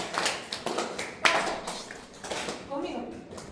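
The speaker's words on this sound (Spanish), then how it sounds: "Ahora vamos a aplaudir a 60 por minuto." A group of students claps together in rhythm at 60 per minute, sharp claps landing under overlapping voices in a classroom.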